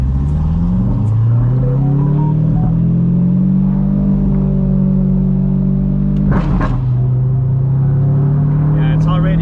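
An Audi R8 engine revs hard in manual mode with paddle shifters, its deep growl climbing in pitch, dropping sharply at a gear change, then pulling again, loud and close.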